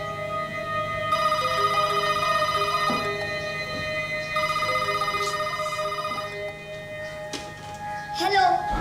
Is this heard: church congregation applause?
no